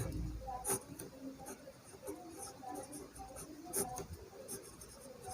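Pen scratching across paper during a Hindi-language trigonometry lesson, faint, quick strokes and taps repeating irregularly at close range.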